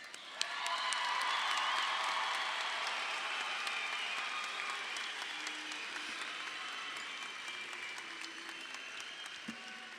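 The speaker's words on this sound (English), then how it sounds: "Let's get one more round of applause for our seniors." Sustained applause from a large audience at a 2022 high school graduation ceremony for the graduating seniors, broad and steady throughout, with a few faint whoops and no talk.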